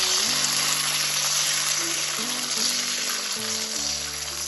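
Batter ladled into a hot oiled pan for patishapta pitha sizzles and fries in a steady, loud hiss throughout, with a low hum running underneath.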